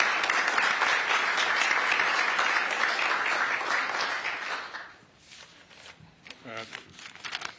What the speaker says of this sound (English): Let's give them a round of applause if we can.